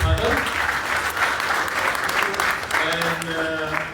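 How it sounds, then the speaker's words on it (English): Audience applause for a panel at an intellectual forum launch, dense clapping that swells in waves, with voices and bits of cheering mixed through it. "Let us clap for the panel."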